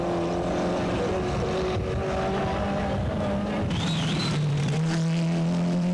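A Skoda 130 RS rally car runs a sprint course, its engine droning steadily with shifting pitch as it drives through, loud and close with a broad roar of road and wind noise around it.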